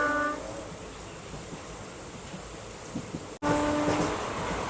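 Steady rumble and rattle of a moving passenger train heard from inside a carriage on a morning run crossing from Kerala into Tamil Nadu toward Coimbatore, continuous and fairly loud, with a short dropout near the end.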